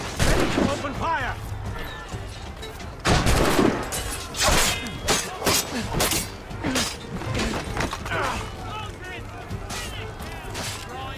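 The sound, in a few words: gunfire in Assassin's Creed Rogue video game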